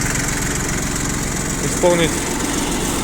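A budget Japanese 4WD mini tractor fitted with a rotary tiller idles steadily at close range, a constant mid-pitched engine drone that runs throughout while someone talks over it.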